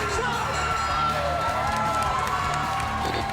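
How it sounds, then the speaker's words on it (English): Loud crowd cheering and whooping fills a Glory kickboxing event in New York after a fight between two kickboxers, with a steady roar and a commentator's voice speaking over it. "The crowd is electric."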